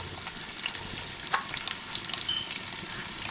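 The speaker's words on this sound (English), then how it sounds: "saute this here for a few minutes" Tomato, scallions and onions saute with karela, shrimp and saltfish in a pan, a quiet even sizzle with light stirring taps and scrapes, faint and steady throughout, with no talking.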